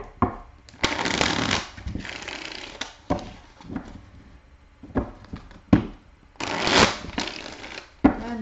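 Tarot cards are shuffled in several bursts of riffling and flicking, separated by short quiet pauses and soft handling sounds.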